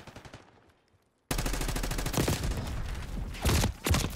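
Automatic gunfire in the Black Ops 6 beta, a fast rattling burst of rapid shots after a brief quieter moment, loud and dense with a couple of heavier blasts near the end.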